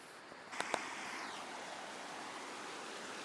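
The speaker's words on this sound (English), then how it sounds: "My water crossing is well and truly underwater." Winter flood water rushing over a submerged creek crossing, a constant broad roar of flowing water, with a couple of faint clicks near the start.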